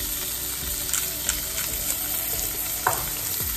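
Steak searing in a very hot pan with a little olive oil, seasoned with salt and black pepper: a steady close hiss of frying with a few sharper pops and crackles, no voices.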